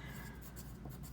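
Pencil scratching across paper in a classroom drawing lesson, a soft continuous rubbing stroke at close range, faint and steady without a break.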